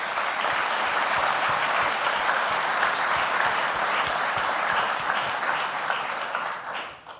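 An awards-ceremony audience at the 2018 Tewaaraton Award gives a dense, steady round of applause for past award winners, sustained and full before tapering off at the very end.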